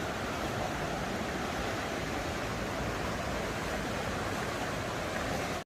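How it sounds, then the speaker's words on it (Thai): Mountain stream water rushes down and merges into a river, a steady, loud broadband roar that stays constant throughout and then cuts off abruptly, with no talking. "ลงมาประมาณนี้ละกะน้ำก็จะไหลลงมาร่วมกันนะคะ ลงไปในแม่น้ำฟังนี่นะคะ"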